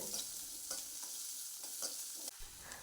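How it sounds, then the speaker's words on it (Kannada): Onion sizzles in hot tempering oil for an amaranth-leaf dal, a dense continuous frying hiss with soft rhythmic stirring scrapes, fairly close and alone without speech. "ಇಲ್ಲಿ ಕೂಡ ಒಂದು ಈರುಳ್ಳಿ ಹಾಕಿದ್ದೇನೆ ಈಗ ಒಗ್ಗರಣೆಗೆ"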